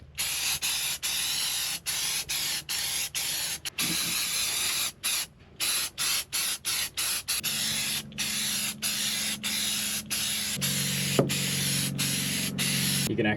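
Rust converter coating sprayed from a can onto an old Chrysler that sat for 22 years: a loud, close, continuous hiss broken by many short gaps, with a steady low hum underneath.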